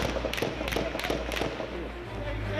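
Gunfire during a prison hostage standoff, with several sharp cracking shots in quick bursts over loud, constant background noise.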